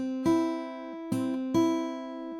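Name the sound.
guitar playing B on first string then open E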